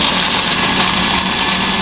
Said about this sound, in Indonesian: kemudian cabai besar itu di blender jadi satu